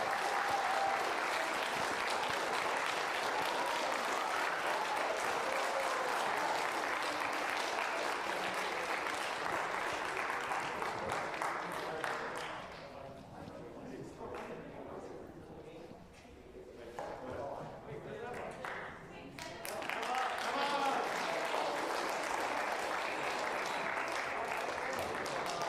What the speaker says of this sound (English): One more time, big round of applause.